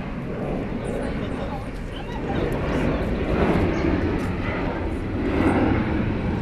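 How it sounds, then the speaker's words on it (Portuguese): A jet airplane roars low overhead at Aterro do Flamengo in Rio de Janeiro, a broad rushing drone that swells louder over several seconds, with faint voices in the background. "Um avião."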